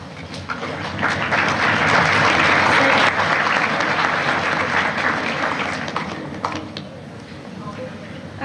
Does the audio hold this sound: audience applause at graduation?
yes